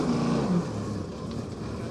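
Muscle car engines rumble at a circuit as the race cars head out onto the track, a moderate, somewhat distant drone with a brief louder surge near the start.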